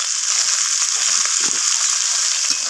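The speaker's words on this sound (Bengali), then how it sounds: "সমস্ত কিছু মশলা নাড়াচাড়া করে আমি ভেজে নিচ্ছি সবজিগুলোর সাথে" Spices and vegetables frying in a pan for a Bengali Malabar spinach chachchari with bhetki fish head, with turmeric, red chilli and cumin powder: a steady, close, bright sizzle runs throughout with faint stirring scrapes and no talk.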